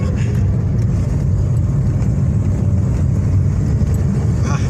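A 2015 Toyota Vios engine with a clogged exhaust runs steadily up close, a loud, constant low rumble that holds its level throughout without clear revving.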